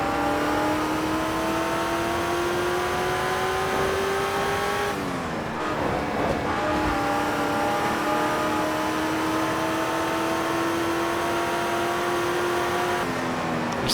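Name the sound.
car engine and driving sounds from video game Test Drive Unlimited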